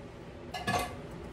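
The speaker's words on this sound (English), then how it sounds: "I'm going to get me a spatula so I can get it out of there good" Metal scrapes and clinks briefly against a dish as a spatula works a baked pie crust loose, a single short close scrape with no voices.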